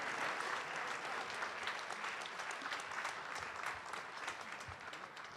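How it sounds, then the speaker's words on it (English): A city inauguration audience applauds the Walloon Kung Fu and Tai Chi Academy, a broad, even wash of clapping from a large crowd that carries on unbroken and fairly distant. "One more round of applause, please, for the Walloon Kung Fu and Tai Chi Academy."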